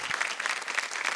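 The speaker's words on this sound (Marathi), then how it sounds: "एकदा जोरदार टाळ्या होऊन जाऊ देत." A studio audience at a Marathi television game show claps in a dense, steady burst of applause, close and even for just over a second.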